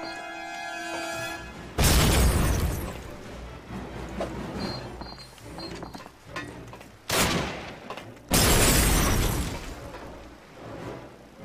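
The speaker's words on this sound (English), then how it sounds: "I got a grenade in there?" Grenade explosions in Call of Duty 1 on a battleship Tirpitz level: two loud, sudden booming blasts several seconds apart, with a shorter burst just before the second, over a constant rumble of battle noise.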